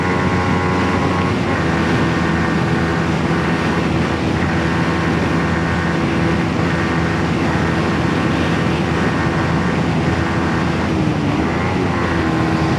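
A Kawasaki Ninja 125 motorcycle engine screams at high revs near its rev limiter, a loud, close, sustained droning whine with wind rush throughout.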